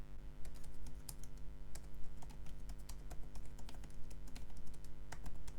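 Someone types a note on a computer keyboard, a close, fast and uneven run of key clicks over a low steady hum, with no talking.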